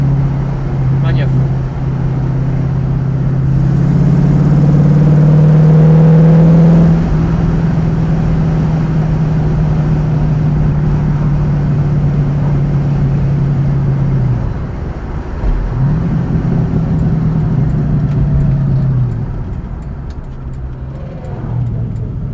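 A 1968 Ford Mustang GT with a performance air filter and exhaust rumbles steadily at idle and low revs, rising briefly in pitch, then dipping and resuming, with a person speaking over it throughout.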